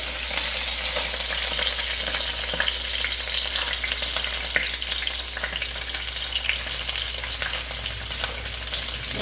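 Moda fish fries on a bed of curry leaves for a Kottayam-style fish curry, producing a dense, continuous sizzle over a low steady hum, close and without speech.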